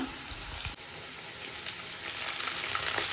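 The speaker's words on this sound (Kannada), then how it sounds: "ಸೊಪ್ಪಲ್ಲಿರೋ ಕಹಿ ಹೋಗಬೇಕು ಅಂದರೆ ಚೆನ್ನಾಗಿ ಒಂದು 5 ನಿಮಿಷ ಎಣ್ಣೆಲೇ ಫ್ರೈ ಮಾಡ್ಕೊಬೇಕು." Leafy greens fry in hot oil in a home kitchen pan, a steady close sizzle with faint crackling that builds slightly in the second half, heard alone without talk.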